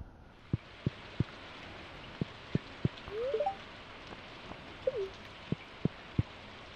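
Rain falls in Stardew Valley as a soft, steady patter, with sharp evenly spaced drip ticks and a couple of brief cooing bird calls, no talking.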